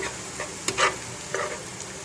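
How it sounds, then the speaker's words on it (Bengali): Chopped onion, ginger, garlic and green chili sizzle in a pan, a continuous close hiss broken by a couple of scraping stirs of the spatula. "এখন একসাথে সব কিছু নেড়ে চেড়ে আরও একটু ফ্রাই করে নিচ্ছি"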